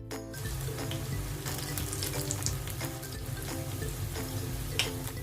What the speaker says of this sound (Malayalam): ഇനി ഇത് ഓരോ സ്പൂൺ വീതം നമുക്ക് ചൂടായ എണ്ണയിലേക്ക് ഇട്ടിട്ട് ഫ്രൈ ചെയ്തെടുക്കാം